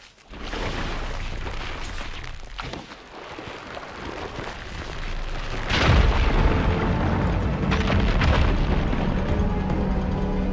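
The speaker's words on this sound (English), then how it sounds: "Igniting that fire gleam should clear it." A fire gleam igniting to blast away rubble in Horizon Forbidden West: a rumbling build-up that breaks into a loud, deep explosion, followed by a sustained roar of crumbling debris, with no voices.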